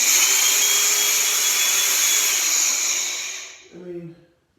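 Dewalt DCG413B XR brushless angle grinder running up loud with a steady high whine for about three seconds, then cut off abruptly as the brake stops it, followed by a short low rattle.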